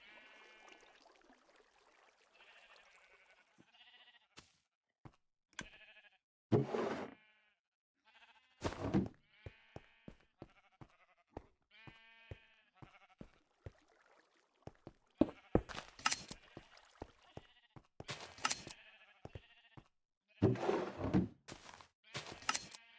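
Sheep bleating in the Minecraft video game, several short bleats scattered among clicks and thunks of in-game actions, fairly loud with quiet gaps between.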